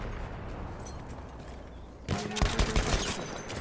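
In Battlefield 1's "They Shall Not Pass" expansion, gunfire suddenly erupts against the player: a dense, loud burst of rapid shots and heavy impacts that breaks in after a stretch of quieter background battle noise.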